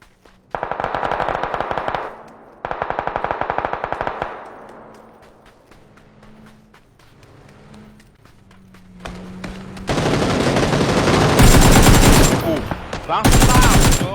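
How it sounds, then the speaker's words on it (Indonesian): Video game gunfire: two rapid automatic bursts, a quieter stretch of scattered shots, then a long, dense, loud volley of machine-gun fire with echo. "kita tuh ditembak sama dia"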